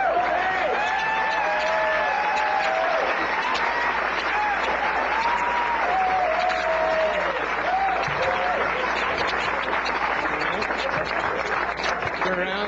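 An audience at a magic show claps steadily and at length, a dense, sustained round of applause with voices audible over it.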